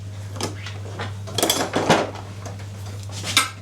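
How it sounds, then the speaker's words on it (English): Spoon scrapes and clinks against a mixing bowl while excess plain flour is scooped out, with several close, irregular scraping strokes and a low steady hum behind them. "A little bit too much there, so I'm just going to scoop out the excess"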